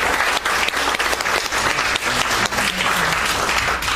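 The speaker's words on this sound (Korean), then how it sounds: "여러분 큰 박수 부탁드립니다." An audience at a ceremony in Jongno applauds loudly and continuously, a dense, even wash of many clapping hands that holds for several seconds without pause.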